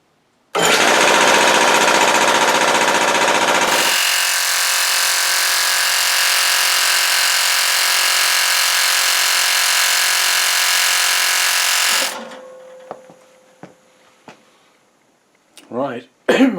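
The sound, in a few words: air compressor running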